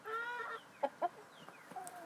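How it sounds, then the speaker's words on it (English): Two hens on a winter farm cluck softly in a short, quiet run of clucks and chirpy calls with brief gaps, heard alone with no talking. "Those are 2 hens."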